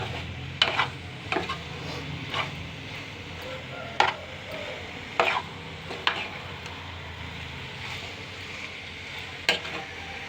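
Shark fish pieces fry in hot oil while being stirred, a soft continuous sizzle broken by repeated sharp scrapes and clinks of the spoon against the pan, with a voice talking over the cooking.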